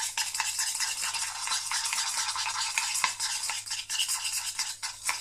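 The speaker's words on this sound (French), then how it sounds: "Il faut mélanger énergiquement." Hand scrub ingredients are stirred vigorously in a bowl, producing a steady, close scraping and swishing that runs without pause for several seconds, with no voices.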